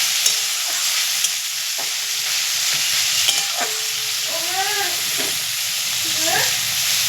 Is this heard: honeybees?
no